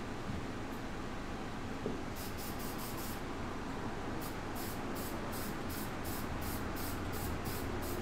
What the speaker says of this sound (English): I'm gonna spray, I'll spray this one with a lot on it.